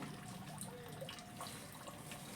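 Water trickles and splashes steadily while plants are being watered, a soft continuous flow with faint drips, fairly quiet and without speech.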